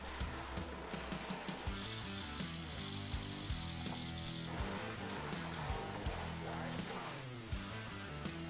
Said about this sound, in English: we'll do it by rubbing a wad of keys and belt buckles against the front and back of the guitar for 60 seconds